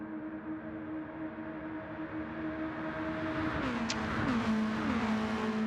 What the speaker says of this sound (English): Quickly tucks behind Kaido to maintain his speed down the straight in that slipstream.